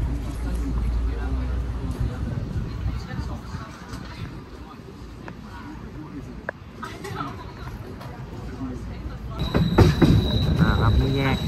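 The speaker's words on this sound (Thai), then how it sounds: "ขบวนรถไฟออกจากสถานีสวายลูซิเนตนะครับ" A train rumbles and clatters along the rails of a Swiss mountain railway from Interlaken Ost toward Grindelwald, with occasional wheel squeal, steady and fairly loud, with voices talking over it.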